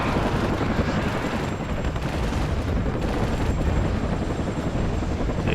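Helicopter in the WARNO war game, a steady loud rotor drone running throughout amid dense combat noise that may include gunfire.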